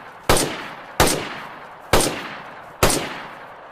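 Four evenly spaced gunshots ring out in the video game DayZ, each a sharp loud crack with a brief decaying tail, fired at a steady rhythm with no talking.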